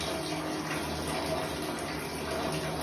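Water runs from the tap of a Haier 15-litre geyser, a continuous even gush that holds steady throughout, close and fairly loud.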